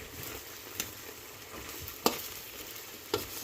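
Chicken and chayote sautéing in a pan, a soft steady sizzle broken by a few sharp clanks of a utensil stirring, close and without talk.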